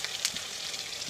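Fish roe and onions fry in a pan with a soft, steady sizzle and faint crackles, quiet and brief with no voices.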